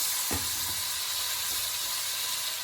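Meat for aloo gosht, which may be mutton or beef, browning in hot oil, a steady bright sizzle with a couple of soft stirring bumps.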